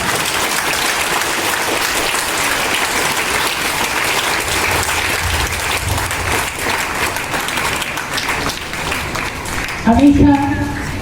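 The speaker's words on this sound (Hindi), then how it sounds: "ताली कम बजी है, लगता है मन में लगन नहीं है।" Audience applause at an Independence Day school event, a steady dense clapping that fills the whole stretch at an even level, with a brief louder burst and some tonal sound near the end.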